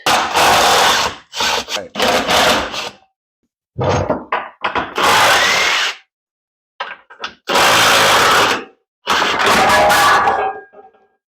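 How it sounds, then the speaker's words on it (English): Power tool removing 15 mm bolts from a Jeep engine being pulled for an LS swap, loud close bursts of driving and whirring separated by short silences, about six runs in total. "now you gotta remove 15 mil bolts on the side"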